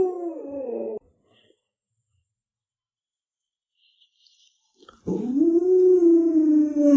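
A small plump dog howls in two wavering, whining bursts, a short one at the start and a longer, louder one after several seconds of silence.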